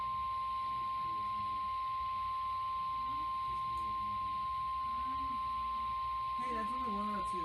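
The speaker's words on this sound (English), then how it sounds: "We have just activated the public warning alarm tone, which normally precedes the broadcast of emergency messages." The NOAA weather radio warning alarm sounds as one steady, piercing tone held unbroken throughout. Faint voices talk underneath it.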